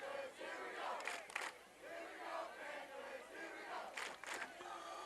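A student crowd in the stands at a high school football game yells and chants, a swelling, fading roar with sharper bursts of shouting, heard from some distance and fairly faint.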